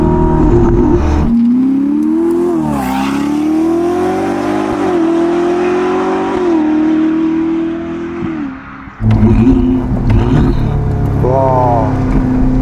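A Ferrari SF90 Spider with a Novitec exhaust, roof off, revving loudly with rising and falling engine pitch, a brief lift-off dip, then sharp blips of the throttle; turbo spooling can be heard.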